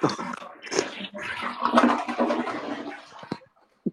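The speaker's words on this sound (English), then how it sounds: "You just flushed the toilet." A toilet flushing nearby, water rushing and gurgling in uneven surges for about three seconds before cutting off.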